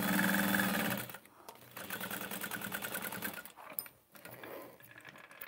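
A steady whirring run of an industrial sewing machine stitching a test bag, with fast continuous needle chatter that dips briefly and resumes, close and fairly loud.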